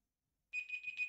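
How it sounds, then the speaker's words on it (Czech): An electronic beeper starts after half a second of silence, a faint, rapid run of high, thin beeps. "Přátelé, pípá mi pípák"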